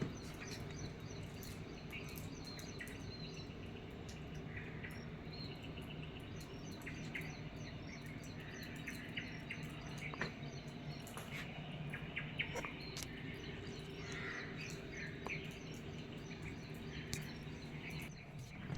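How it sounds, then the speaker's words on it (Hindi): Birds chirp and call intermittently, with insects buzzing, amid a continuous wash of rushing water from a nearby waterfall at Mahabaleshwar; the scene is quiet and distant, with no voices. "यहाँ पर पक्षियों की आवाज़ और पास में कहीं बहते हुए वाटरफॉल, झरने के पानी की कलकल करती हुई आवाज़ आसानी से आपको सुनाई दे सकती है।"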